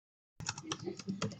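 Rapid keystrokes on a computer keyboard as a project name is typed into SciNote software, close and clear, starting abruptly after a moment of silence.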